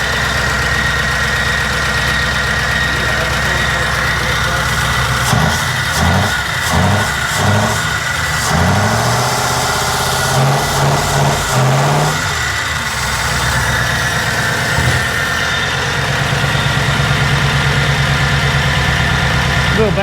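Engine of a car built for a Holley dream car giveaway idles loudly and steadily, then rises through a run of sharp revs in the middle before settling back to idle, with people talking and cheering over it.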